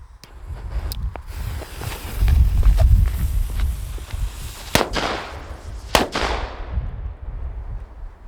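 Petard firecrackers burst outdoors with a low rumbling blast followed by two sharp, loud cracks a second apart, then fading crackle and quiet.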